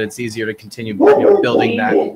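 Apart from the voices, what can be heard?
dog barking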